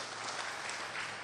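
Applause from the audience at a spoken sermon, a faint, steady rush of many people clapping together with no clear breaks.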